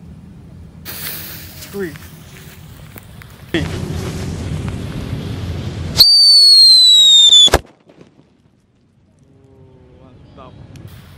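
A paper-wrapped Whistling Thunder firecracker hisses and fizzes, then lets out a loud, piercing whistle that slides downward for about a second and a half and cuts off sharply. A short quiet follows, then a brief exclamation and some faint background noise.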